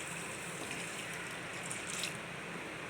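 Hot water pouring into a cup of white semolina, a steady soft trickling stream that runs unbroken at moderate loudness with no voices.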